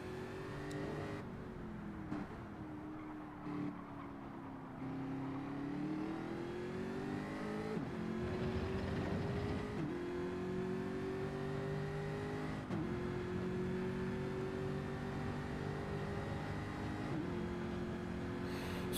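Jaguar race cars in a Gran Turismo 7 race at Fuji roar through repeated upshifts, engine pitch climbing and dropping with each gear change, with other cars whirring past throughout.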